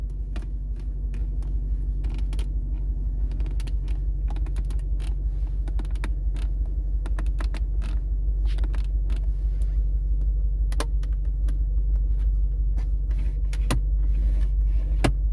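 Rattles and creaks from the interior trim of a moving BMW F90 M5 Competition sedan, scattered light ticks and clicks over a constant deep cabin rumble, with no voices.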